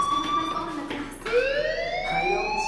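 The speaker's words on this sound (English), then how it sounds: "do you hear that fire alarm?" A fire alarm sounds inside the Life Is Strange video game, a steady electronic tone that rises in pitch and holds like a siren, over a low background hum with faint voices.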